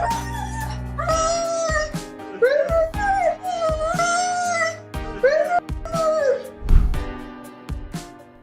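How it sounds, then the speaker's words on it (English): A dog long separated from its owner makes strange, wavering howls and whining moans, several pitched-up cries in a row with sharp breaths and thumps between, loud and close. "This pup's been separated from his owner for months, and now he's making some seriously weird noises."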